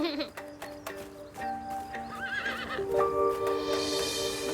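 Wild horses in Mongolia whinny and neigh repeatedly, high wavering calls overlapping one another, with faint hoof clops and rising noise toward the end.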